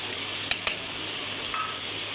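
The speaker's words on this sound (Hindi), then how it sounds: "मसाले को अब अच्छे से भूनेंगे।" Red chili, salt and turmeric powder with green chili sizzle steadily in a pan for a beans curry, with two sharp spoon clacks against the pan close together and a faint later scrape.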